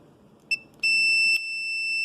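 A multimeter beeps during continuity testing on an Audi A6 fuel pump relay: a short chirp, then a steady high electronic tone that holds for a moment, briefly breaks and resumes, close and clear.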